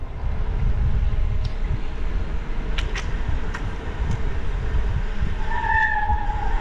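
Brakes on a vehicle descending a steep mountain road toward Nueva Era, Ilocos Norte, give a high squeal near the end over steady road and engine rumble, with a few brief sharp squeaks earlier.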